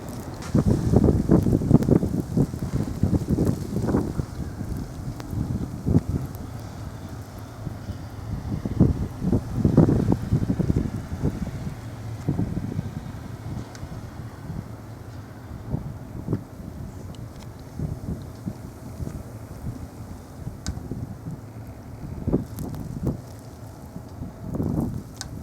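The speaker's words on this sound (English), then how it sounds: "Blizzard, whiteout conditions and everything." Blizzard wind in whiteout conditions in Alpena, Michigan, buffets the microphone in heavy, low rumbling gusts that surge and ease over half a minute, loudest early on, with a steady hiss underneath.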